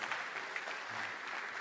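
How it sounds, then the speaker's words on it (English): Audience applause at a public forum session, a continuous wash of many hands clapping at once, fairly distant and soft, with no voices standing out. "Applause."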